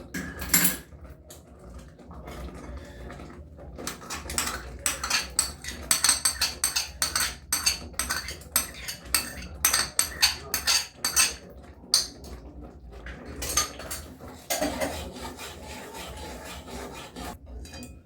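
Milk in a pot gets stirred continuously, a spoon scraping and rubbing against the metal bottom in quick, uneven strokes, close and fairly quiet, with short pauses between bursts of stirring.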